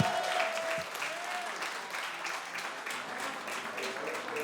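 A concert crowd cheers and applauds at a hip-hop performance, a dense, continuous roar of clapping and shouting that holds steady throughout.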